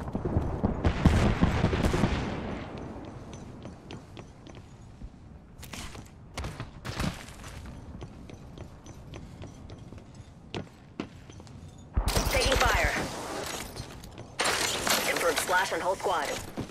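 Apex Legends gunfire comes in loud rapid automatic bursts, with scattered single shots and bursts of shattering impacts between them, close and dense, while game voice lines sound over the top.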